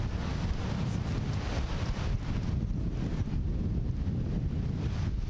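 Strong wind buffets the microphone on a wide California beach with a waterfall, a loud, constant rumbling roar that fills the whole stretch without pause.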